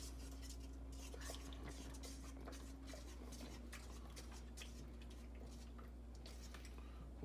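A utensil scrapes and taps softly against a pot as sour cream is stirred into a creamy chicken filling, making a faint, irregular clinking close by.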